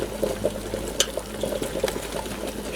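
A pot boils vigorously on a twig stove outdoors, with steady bubbling and occasional sharper pops and crackles from the burning sticks, close and moderately loud.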